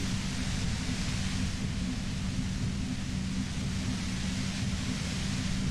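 Steady, even white noise fills the space in the video game Disco Elysium, a continuous rushing hiss with a low rumbling undertone that never changes in level and has no talking over it.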